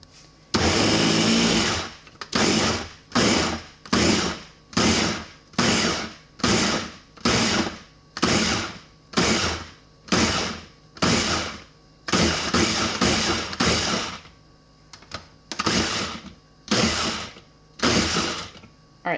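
A blender pulses tomato salsa in repeated short bursts, around twenty loud whirring pulses separated by brief pauses, close and alone with no talking.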